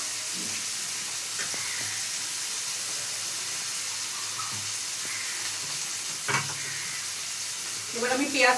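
Oil sizzles steadily in a pan while palak paneer is cooked, a continuous close frying hiss with brief stirring clatters near the end.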